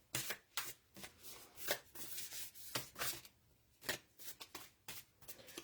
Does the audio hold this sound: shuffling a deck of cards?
yes